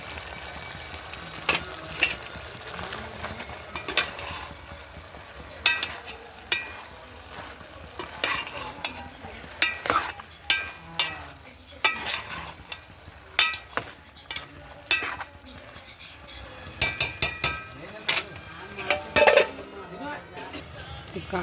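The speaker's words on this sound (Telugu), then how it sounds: "తిప్పుకుందాం. ఈ చికెన్లో గోంగూర వేసుకుందాం." Gongura chicken curry stirred in a pan, a spoon scraping and clanking against the metal in repeated bursts over a low frying sizzle, with some background voices at times.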